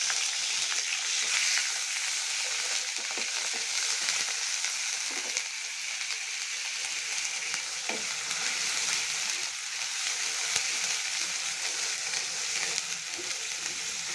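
Garlic paste and onion fry in a pan for a fish and lentil curry, making a continuous moderate sizzle with occasional soft scrapes as the mixture is stirred, and no voices.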